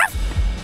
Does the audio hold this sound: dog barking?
yes